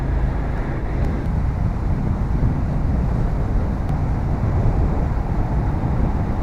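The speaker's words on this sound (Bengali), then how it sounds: "ঘম ঘম করছে শব্দটা বাইকের।" A motorbike engine drones steadily inside a new road tunnel on the Jammu to Rajouri route, a loud, constant rumbling roar with booming wind-like noise and no pauses.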